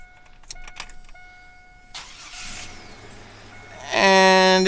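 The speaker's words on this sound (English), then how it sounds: "And we have the old key, and we stick it in the steering wheel." An old key slides and clicks into the steering-column ignition of a 1999 Chevy Blazer, with small metallic clicks and rattles up close, then a louder chime or warning tone.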